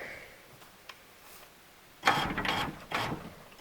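Socket ratchet working a window bolt inside a C3 Corvette door, two short bursts of rapid clicking after a quiet pause, close by, no talking.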